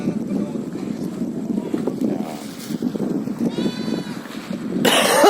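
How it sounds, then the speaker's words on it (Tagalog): Several rough coughs come through amid outdoor wind noise from Typhoon Kristine and background voices, with a loud gusty burst at the end. "Inuubo ang inyong mga balingkod."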